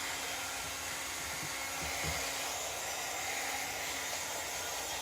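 A dryer blows a steady airy hiss to dry paint on a handmade snow globe, held close with a constant whine and a few faint knocks partway through, no voices over it.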